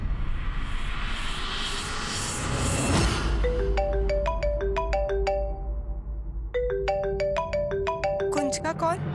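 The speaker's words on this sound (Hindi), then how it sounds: "कुंज का कॉल?" A phone ringtone plays a bright repeating melody of chiming notes in two bursts, preceded by a rushing, noisy swell.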